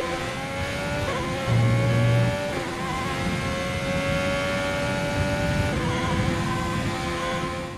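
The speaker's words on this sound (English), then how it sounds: "I'll leave you on board for a little bit for the Ferrari engine sound" Ferrari power unit of a Haas car in F1 2020 gameplay, heard from onboard: a loud sustained high-revving engine whine climbing through gears, with brief shift drops and continuous roar throughout.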